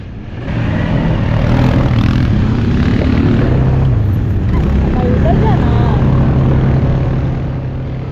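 A dune buggy engine revs hard and steadily on desert safari sand dunes in Dubai, a loud, continuous droning roar lasting throughout, with faint voices underneath.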